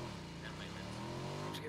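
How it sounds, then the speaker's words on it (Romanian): A motorbike engine revs steadily in PUBG, a droning, slightly rising motor tone held close and loud, with players talking over it. "ăsta-l calc cu motorul"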